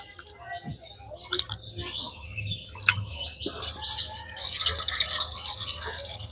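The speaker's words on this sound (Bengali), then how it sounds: "তাই কিন্তু অবশ্যই করে আগে ডালটাকে ভালো করে ধুয়ে নিতে হবে। একটুখানি কচলে কচলে ধুয়ে নিচ্ছি।" Lentils are rubbed and swished by hand in a bowl of water, close wet squishing and gentle sloshing that swell toward the end, with birds chirping faintly in the background.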